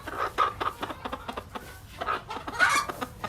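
Chickens inside a coop clucking in a busy, irregular stream of short calls, some louder and closer, with no one talking over them.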